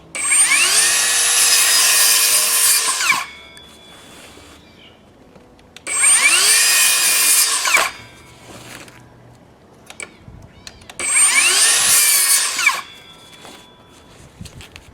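A battery-powered circular saw slices through thin and half-rotten scrap wood in three loud bursts, each a few seconds of high whining cut with a rising spin-up, separated by quieter pauses.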